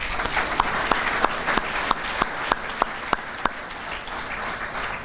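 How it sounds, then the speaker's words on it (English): Audience applause for the Hamilton Rotary Club and Lindenwold Kiwanis at a civic day ceremony for the class of 2014, a sustained wash of clapping punctuated by a few sharp, louder individual claps at a regular pace. "if you'll give them a round of applause"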